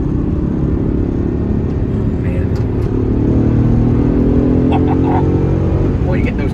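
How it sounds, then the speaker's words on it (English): A 2020 Aston Martin Vantage AMR with a dog-leg manual gearbox and turbocharged engine pulls through the gears, engine notes climbing in repeated sweeps, each broken by a crisp shift, loud and close. "Boy, it goes through the gears beautifully. Very crisp sound."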